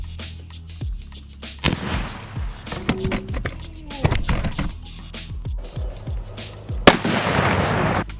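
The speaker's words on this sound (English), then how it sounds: "Okay, so since this gun seems to be doing most damage, keep taking more shots." Repeated gunshots fired at a dirtbike engine outdoors, sharp loud cracks spaced irregularly across the span with echoing tails and a few louder bursts near the end; no talking.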